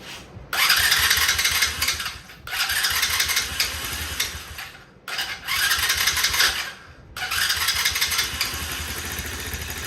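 Repeated cranking attempts on a Tao Tao 125cc Venom ATV engine come in bursts of whirring starter and sputtering, separated by brief pauses, before a final attempt that keeps running, close and loud.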